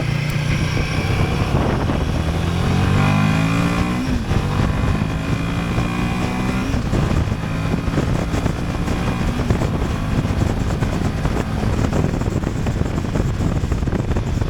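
Royal Enfield Himalayan 450 motorcycle pulling away from a roundabout, its engine note climbing in stepped rising tones through the gears under heavy wind rush from the riding microphone.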